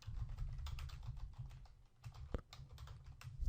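Keys clatter on a computer keyboard in quick irregular bursts, close and moderately loud, with no speech, as text is typed into a web page editor.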